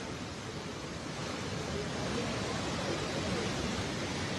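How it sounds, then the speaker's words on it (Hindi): Floodwater from the burst Malana dam roars through the Beas and Parvati rivers in Kullu's Manikaran valley after a cloudburst. A steady, dense rushing noise fills the whole stretch without a break. "पानी की रफ्तार बहुत ज़्यादा है।"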